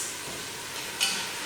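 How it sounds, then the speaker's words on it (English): Chicken skin browning in a pot over medium to high heat gives a steady, dense sizzle throughout, with a brief louder crackle partway through and no talking. "add the chicken skin down. That's very important. We want to brown that skin."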